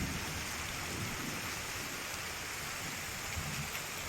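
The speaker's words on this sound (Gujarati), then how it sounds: "અમારા ઘરે તો વરસાદ આવવા માંડ્યો" Steady, dense unseasonal summer rain falls without a break, a constant hiss of drops hitting surfaces nearby, with no voices.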